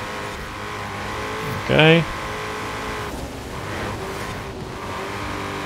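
A Ford Mustang GT in the racing game Forza Horizon 4 drones at a steady pitch, then revs up in one short, loud rising burst before settling back to a cruising hum, while someone talks over it.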